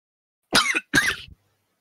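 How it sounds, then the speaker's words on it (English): A person coughs from dust: two short, harsh coughs or throat-clearing bursts in quick succession, close and isolated against silence. "He's coughing!"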